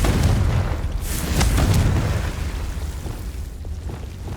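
A Confringo fire spell exploding in the game Hogwarts Legacy, a loud rumbling boom with a burst of crackle that swells and then slowly fades out.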